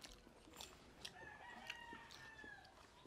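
Birds calling outdoors at a cooking spot, faint and distant: short bright chirps and a rooster-like crow over a low background hiss.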